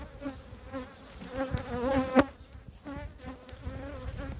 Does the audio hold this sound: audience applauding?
no